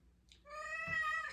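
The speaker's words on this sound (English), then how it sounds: "Freddie, make yourself known besides just your meow." A house cat meows once, a clear drawn-out cry that rises and holds close and fairly loud, with only a faint background hush before it.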